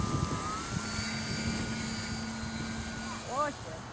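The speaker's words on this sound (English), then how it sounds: "We have a flying biplane." A small radio-controlled biplane buzzes overhead after being hand-launched outdoors, its electric motor a faint steady whine with rising pitch sweeps as it passes, while people talk nearby.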